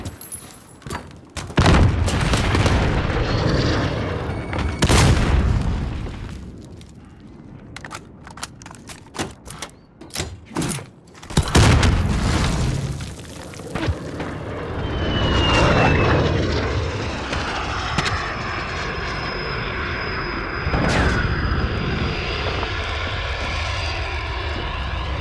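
Jet aircraft roar and airstrike blasts in a shooter video game, with loud bursts of explosions and rapid fire early, then a sustained jet engine whine sweeping overhead, steady and loud to the end.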